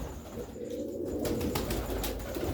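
Pigeons coo low and soft amid a steady background hum, with a brief flutter of wings partway through.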